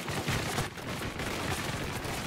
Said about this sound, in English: Who's shooting at me, bro?